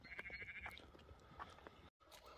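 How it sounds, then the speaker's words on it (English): Several sheep bleat near a cattle grid in a busy outdoor setting, overlapping calls near and far, with a short dropout near the end. "All them sheep will all be done with the cattle grid now in a minute"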